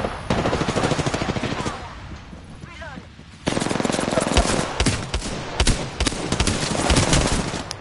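Rapid automatic gunfire in an online shooter game, with dense bursts of shots, a short lull, then more sustained volleys, loud and close, with a game voice speaking briefly between shots.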